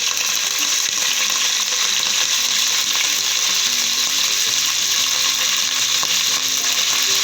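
Mustard seeds, cumin, green chillies and curry leaves fry in hot oil for an upittu, giving a loud, steady, dense sizzle with scattered crackles and pops throughout and no voices.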